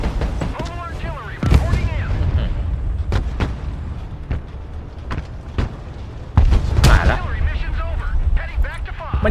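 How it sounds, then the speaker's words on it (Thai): Artillery shells strike in a Broken Arrow military strategy battle, a string of loud booming impacts and sharp cracks spread irregularly across the stretch, with heavier blasts near the middle and end over a steady rumbling din. "กองสามกองสามถล่มตรงนี้ ยิงเลย"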